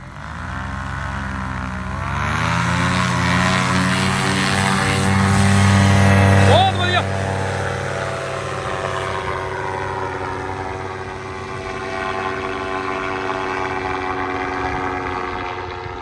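A light training aircraft's engine revs up under throttle, a loud steady drone that rises in pitch and holds for several seconds before easing to a lower hum. A voice is briefly heard near the peak of the run-up.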